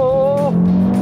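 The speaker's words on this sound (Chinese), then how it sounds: "有没有直列五缸的声浪？" An Audi RS3 inline five-cylinder engine revs hard under acceleration, a loud close droning tone that drops in pitch as it shifts, heard alone for about a second.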